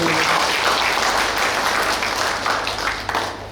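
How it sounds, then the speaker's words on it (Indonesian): Audience applause at a parent meeting for first-grade students' guardians in an Indonesian school hall, a dense, steady wash of clapping from a large crowd that holds for several seconds and tapers slightly near the end. "Mohon tepuk tangannya terlebih dahulu."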